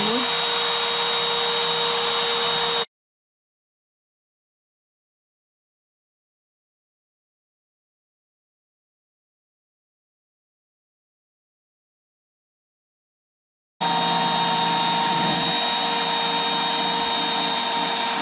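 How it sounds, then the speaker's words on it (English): A CNC router cuts a slot into plywood, a steady high-pitched whining roar running for about three seconds, dropping to silence for roughly eleven seconds, then starting again loud and continuous. "So right now it's creating a slot for the plywood."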